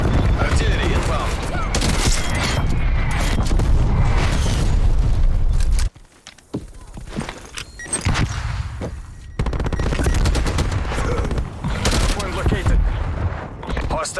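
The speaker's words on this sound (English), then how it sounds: "Artillery inbound." Artillery strike explosions in Black Ops Cold War, a sustained barrage of booming blasts and gunfire that cuts out abruptly, then quieter scattered impacts before heavy fire resumes, loud and close, with voices throughout.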